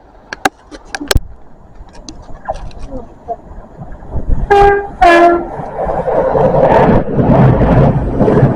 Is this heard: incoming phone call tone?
no